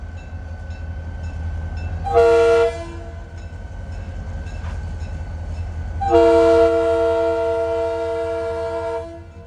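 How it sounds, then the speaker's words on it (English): Florida East Coast Railway GP40 locomotive hauling worn hopper cars into a yard near St. Augustine: a low diesel rumble under two loud multi-tone horn blasts, the first short, the second long and sustained. "he's watching this Jeep 40 take these well-used hoppers into the yard."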